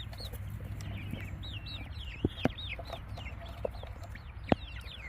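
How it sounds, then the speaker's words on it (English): Wyandotte chickens and roosters cluck and chatter in a coop, with repeated near clucks and a few sharp louder calls over a steady farmyard background. "That's one of the roosters right there"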